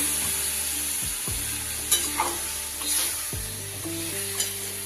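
Mixed winter vegetables cooked in katla fish oil sizzle loudly in a pan as water is poured in, a steady hissing fry with a few soft stirring clatters, no voices.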